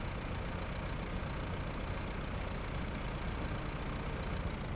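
A logging truck in the video game SnowRunner idles steadily with a low, even engine rumble, quiet and unchanging throughout, with no speech over it.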